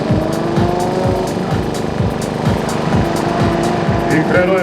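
A BMW E36 race car with an S54 engine at full throttle during qualifying on a track, a loud, steady engine roar with repeated rising gear pulls, heard up close from onboard throughout.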